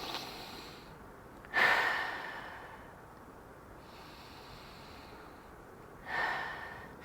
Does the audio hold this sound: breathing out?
yes